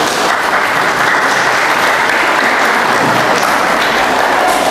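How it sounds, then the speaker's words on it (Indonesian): Sustained crowd applause at a non-formal education graduation ceremony in a hall, dense, loud and even clapping from many people throughout. "Tepuk tangan untuk SKB."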